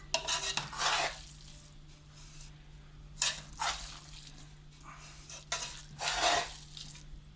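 A spoon scrapes and knocks through rice and potatoes in a pot of breyani, giving a few separate stirring strokes with short pauses between them over a low steady hum.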